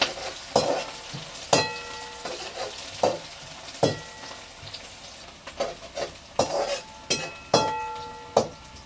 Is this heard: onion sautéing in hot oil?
yes